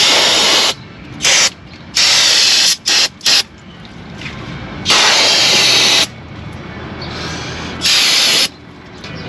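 Several loud hissing blasts of aerosol spray on brake parts of a 2013 Subaru Forester, short and longer bursts separated by pauses, close up over a faint background hum.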